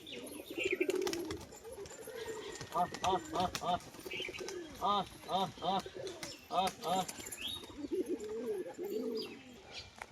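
Pigeons coo in repeated rolling bursts, close and fairly loud, with occasional chirps and a brief flutter of wings amid background noise.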